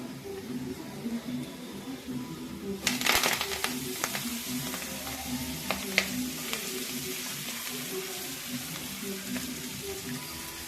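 Fenugreek leaves frying in a pan with turmeric, a steady soft sizzle broken by scraping stir strokes and clinks of a spoon against the pan.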